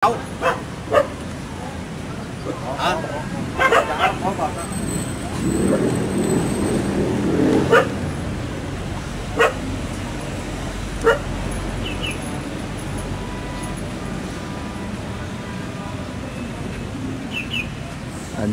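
Dog barks ring out in a garden of small and mini bonsai trees, a few short sharp yelps scattered over steady outdoor background noise, with birds faint and people talking nearby.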